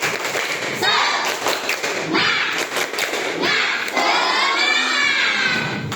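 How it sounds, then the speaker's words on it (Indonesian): A classroom of children claps and chants together in a rhythmic cheer, with loud bursts of hand thumps and shouted voices in patterned beats, ending in a sustained group shout. "Kita lakukan tepuk semangat."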